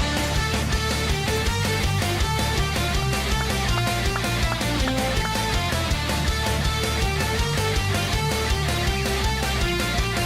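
Power metal song playing loud and dense, with driving drums, distorted guitars and a steady pounding rhythm throughout, no talk over it.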